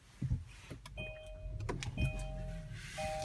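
A 2017 Kia Sportage SX starts with a push button as the power seat moves into position on its own, a faint whirring motor hum sounding in short bursts alongside soft chimes and clicks inside the quiet cabin.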